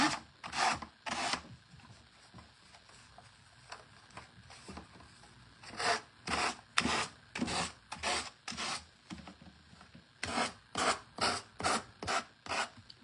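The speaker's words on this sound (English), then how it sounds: "let me get my little sander. And we're going to go ahead and just sand this off of here" A small sander worked over wood, producing rhythmic rasping strokes in close, loud bursts, with pauses between runs and quicker back-and-forth passes toward the end.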